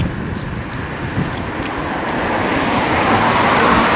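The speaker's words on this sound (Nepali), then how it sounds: "चिसो हावा चलिरहेको छ है" Cold wind blowing outdoors along a quiet road, a steady, full rushing roar buffeting the microphone throughout, slowly growing a little louder toward the end, with no talk.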